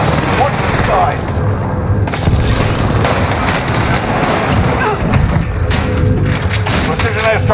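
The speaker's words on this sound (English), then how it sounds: "Precision airstrike there." A precision airstrike in Warzone sets off a dense, continuous barrage of heavy booms and rumbling blasts, loud and close, with voices talking over the bombardment.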